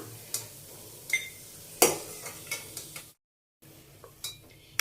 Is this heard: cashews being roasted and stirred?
yes